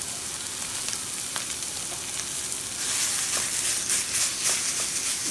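Mild Tennessee Pride sausage, fatty, sizzles in a pan with a steady crackling hiss that swells louder partway through, with bursts of popping fat up close and no talking.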